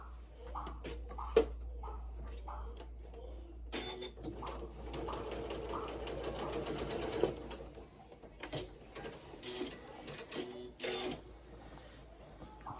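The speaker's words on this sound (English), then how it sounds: "right here, you're just gonna sew that little opening." A sewing machine stitches closed a small opening in a garment during a French-seam tutorial, bursts of fast, rattling stitching broken by pauses, handling clicks and fabric shuffling over a faint low hum.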